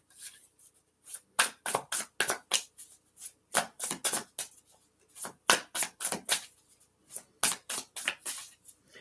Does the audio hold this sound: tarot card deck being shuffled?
yes